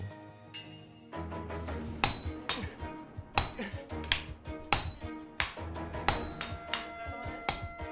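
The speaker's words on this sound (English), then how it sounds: "the apprentices would use big mallets to flatten the steel" Sword steel is hammered flat with mallets, giving bright ringing metallic strikes in an irregular but steady rhythm, sharp clanks repeating close and clear after a quieter opening.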